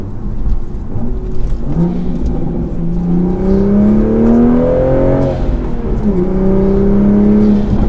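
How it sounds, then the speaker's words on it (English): A Toyota Supra's AWE aftermarket exhaust drones and rises in pitch through the gears while accelerating, loud and steady, with a brief dip before climbing again. "the AWE exhaust sounds so good"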